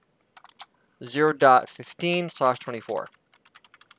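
Computer keyboard typing while configuring a GNS3 router for Frame Relay switching: short bursts of quick, close key clicks before and after a stretch of someone talking.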